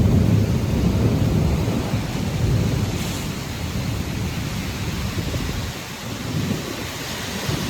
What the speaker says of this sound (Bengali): গাছপালা দেখা যাচ্ছে না, এত ভয়ঙ্কর বৃষ্টি।